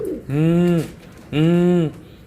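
A breeding pigeon coos twice, each a loud, drawn-out, close call separated by a short pause, with no other sound beneath.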